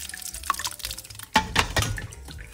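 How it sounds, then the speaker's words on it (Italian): Grape must for vincotto drips and runs down in a thin trickle, with a few soft drops and then a louder splashing burst of liquid partway through. "Sentite come scende il liquido, il mosto."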